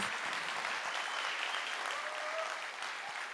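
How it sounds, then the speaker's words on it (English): A breakfast event crowd gives a sustained round of applause, thick continuous clapping that fills the room evenly from start to finish with no talking on top. "Please give Kamari and Mr. T another round of applause."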